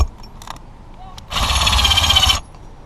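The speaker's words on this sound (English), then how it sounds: "we're just going to drill it in" A single loud, close burst of power drilling into a roof during a solar panel install, lasting about a second, with quieter clicks and handling noises before it.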